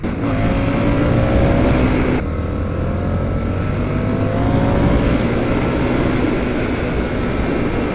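An Indian FTR 1200 motorcycle accelerates at speed, a loud, continuous engine drone with rising pitch and steady wind rush filling the whole stretch, close and uninterrupted, with no talk over it.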